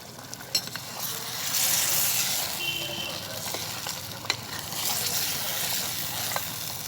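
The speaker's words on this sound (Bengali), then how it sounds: "আমি এখন নেড়ে চেড়ে দেবো" Mutton biryani is stirred in a clay pot, a steady sizzle and scraping with a few sharp clinks of the spoon against the pot, close and continuous.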